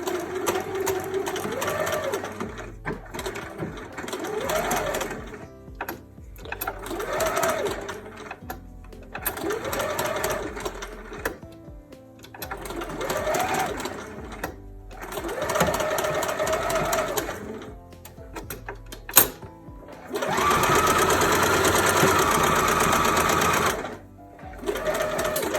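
A sewing machine stitches up to a seam while upcycling a garment, its motor whirring in repeated bursts with short pauses between, ending in a longer, louder sustained run.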